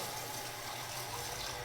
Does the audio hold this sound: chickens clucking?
no